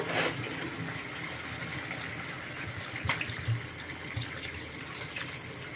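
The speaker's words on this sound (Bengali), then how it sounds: "এখন আমি এখানে জল দিয়ে দেবো" Water pours steadily into a pan of katla fish curry with potato and pointed gourd, where oil has separated from the spices, giving a continuous close rushing splash with no talking.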